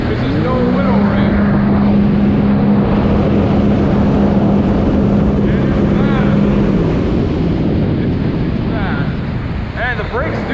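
A 2012 Sea-Doo RXP-X 260 personal watercraft running on open water, its engine a loud, steady drone under heavy wind buffeting and spray, with a rider's voice briefly audible over it.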